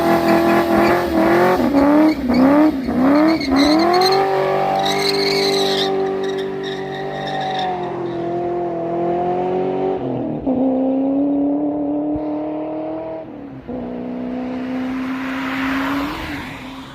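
A Ford Fox body notchback with a swapped V8 drivetrain revs and accelerates through several gear changes, then settles into a steady, loud engine drone with a few brief shifts.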